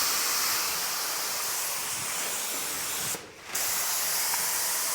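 Spray gun laying a light sealer coat on a sanded car body, a steady close airy hiss that cuts out briefly near the end and then resumes.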